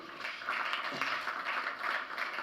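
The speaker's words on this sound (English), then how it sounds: "Another round of applause for her." Applause from a conference audience at an economics plenary session, a steady, moderately distant wash of clapping that holds evenly throughout with no voices on top.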